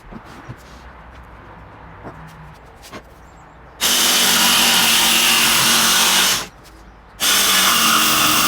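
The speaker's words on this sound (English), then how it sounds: "I'm going to grab my jigsaw and cut those little corners out so it'll fit in nice and tight." Quiet workshop shuffling and taps, then a loud jigsaw buzzes through wood, cutting out corners in two long bursts separated by a brief pause.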